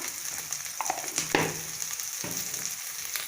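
Onions sauté in a pan with salt and turmeric for a green gram dal curry, giving a steady soft sizzle with a few clinks and stirs of a utensil and no talking.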